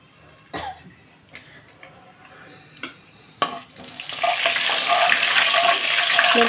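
Fenugreek seeds and cumin dropped into hot oil for an egg curry, a few sharp clinks and taps giving way to a loud, steady sizzle and crackle that fills the rest of the moment.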